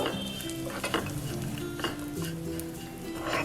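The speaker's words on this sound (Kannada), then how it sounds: "ಅರ್ಧ ಸ್ಪೂನಷ್ಟು ಗಸಗಸೆ ಒಂದು ಟೇಬಲ್ ಸ್ಪೂನಷ್ಟು ಒಣ ಕೊಬ್ಬರಿ ತುರಿನ ಹಾಕೋಣ ಇದನ್ನು ಸ್ವಲ್ಪ ಹುರ್ಕೊಂಡು" Poppy seeds and dry grated coconut roast in a pan while a spoon stirs and scrapes them, a soft continuous sizzle and rustle with occasional light metal clinks.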